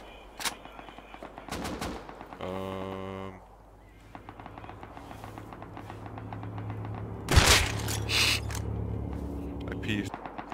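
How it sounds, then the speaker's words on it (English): Video game gunfire with rapid bursts of shots and sharp cracks from an online match, loud and close at times, mixed with other game noises and a speaking voice. "Someone's getting shot behind."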